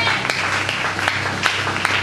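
A church congregation applauding to acclaim the Lord, with steady hand-clapping from a crowd and a few sharper individual claps standing out above the sustained applause.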